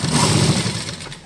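A tailoring sewing machine stitches fabric with a steady, dense mechanical whir, loud and continuous for about a second before it slows and trails off, with no talking.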